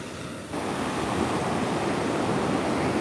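Ocean waves breaking at a beach during a live outdoor report, a steady broadband roar of surf that swells after a brief quieter moment and then holds loud and continuous, with some wind rush and no talking.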